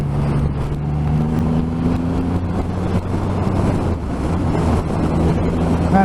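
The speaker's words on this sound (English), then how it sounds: "I'm having to lean into the wind a little bit" Steady, loud wind roar buffeting a rider on a 2020 Triumph Rocket 3 2500 cc motorcycle cruising at about 80 mph, with a low engine drone running continuously underneath.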